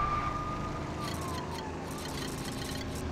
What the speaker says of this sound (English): When those random NPCs, when they have the sirens on, I never understand why.